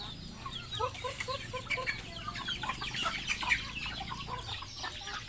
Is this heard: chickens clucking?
yes